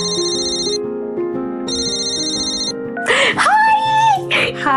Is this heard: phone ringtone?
yes